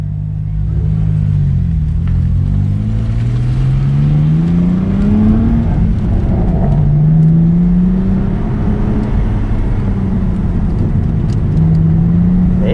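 A BMW M3 accelerates hard on a race track during a track day, its engine pitch climbing repeatedly in steady rising sweeps and holding a loud, close, continuous drone throughout.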